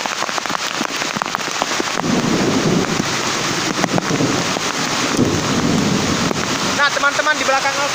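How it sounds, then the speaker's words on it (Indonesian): Heavy rain pouring down on a forest trail, a dense continuous hiss and patter close to the microphone with wind buffeting, steady throughout. "di jalannya hujannya deras kayak gini"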